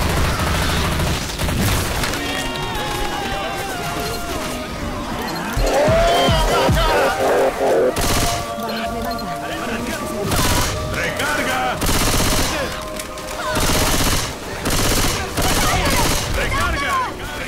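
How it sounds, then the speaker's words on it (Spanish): Rapid gunfire and bursts of shots fill a 13-versus-13 match in the video game Dystopia, loud and nearly continuous with short gaps, and excited voices can be heard in the mix. "¡Qué disparo!"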